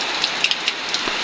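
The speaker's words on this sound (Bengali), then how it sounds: "কিন্তু আবার বৃষ্টি চলে আসছে" Rain falls steadily in a continuous hiss, with a few sharper drips landing close by on a hard surface.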